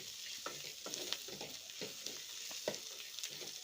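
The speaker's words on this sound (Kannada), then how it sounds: "ಇದು ಹಸಿ ವಾಸನೆ ಹೋಗೋ ತನಕ ಫ್ರೈ ಮಾಡಿಕೊಂಡ್ರೆ ಸಾಕು." Chicken curry masala frying in a pan, a steady close sizzle with repeated soft scrapes and stirring knocks of a spoon against the pan, no voices.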